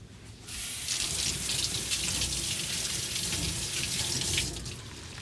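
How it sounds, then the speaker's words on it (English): Tap water runs steadily into a kitchen sink as cut tapioca pieces go into the water, a continuous close hiss and splash with no talking. "Cut it and put it in the water because, you know, it can get discolored."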